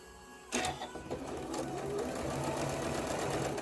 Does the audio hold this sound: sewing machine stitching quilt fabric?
yes